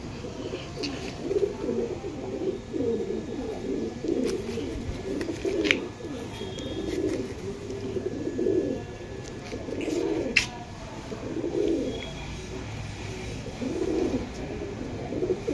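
Pakistani pigeons coo in a loft, with steady low rolling coos repeating throughout and a few sharp clicks and rustles from the birds.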